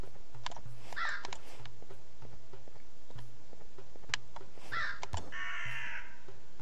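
Bennu birds in the game Telophase give a few harsh, crow-like caws in short bursts over a ticking, pattering ambient loop, fairly close and without talk.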